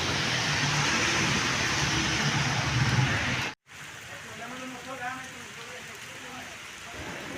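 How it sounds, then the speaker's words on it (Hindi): Rain falls in a steady hiss over Mall Road in Lahore, near the Lahore Museum, on a deserted Sunday. The wash is continuous apart from one brief cut midway. "देखें बारिश का हाल।"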